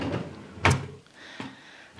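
A makeup vanity drawer being pulled open, giving a sharp sliding thump followed by a softer knock, fairly close and quiet with no talking.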